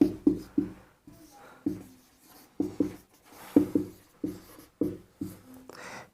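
A teacher writes a probability formula on a board, with a series of short scratchy strokes and taps in irregular bursts, fairly close and quiet in a calm classroom.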